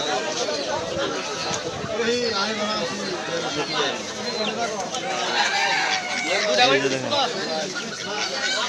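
A busy poultry and pigeon market at Jamurki Bazar, Mirzapur, Tangail, with chickens clucking and crowing amid a crowd of people talking, dense and continuous all around.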